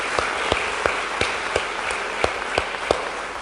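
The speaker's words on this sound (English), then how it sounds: "Big round of applause to you guys" Scattered applause from a small audience, with a few distinct close claps standing out in a slow, uneven rhythm over a soft wash of background clapping.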